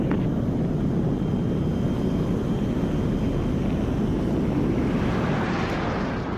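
A fighter jet climbs after takeoff from Nellis, a dense continuous roar heavy in the low end, steady and loud throughout with a faint rising hiss near the end.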